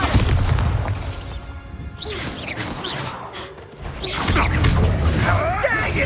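Bombarda blast spell going off in the video game Hogwarts Legacy, a loud crashing boom amid dense combat effects with whooshes, swelling again toward the end.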